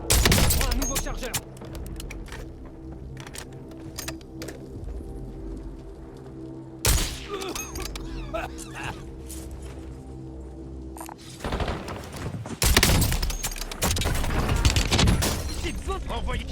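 Rapid gunfire bursts crack throughout a Warzone match, loud and close with repeated volleys and impacts, alongside game voice lines and brief talk.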